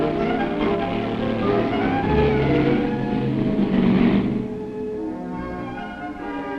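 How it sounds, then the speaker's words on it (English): Pontiac race car drifting on the Pikes Peak hill climb course in 1965, a loud steady engine roar with rising and falling revs that swells around the middle and then eases off, heard alone without talk. "Morrow from Denver is the pilot of a Pontiac equipped with Gates tires. Good drift"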